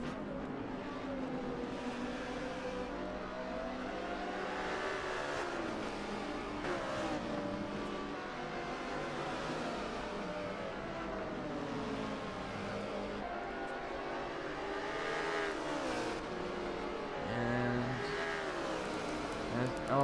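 GT4 race cars, a Jaguar and an Audi R8 running single file at Yas Marina in a racing video game, drone steadily with shifting engine pitch throughout, under continuous commentary.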